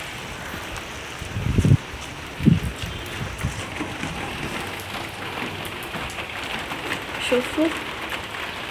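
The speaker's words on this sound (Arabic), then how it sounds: "هاي الناحية شباب زخت مطر" Rain shower falling outdoors on a rainy Christmas day, a steady broadband hiss with a few louder thumps and handling bumps, while someone speaks briefly over it.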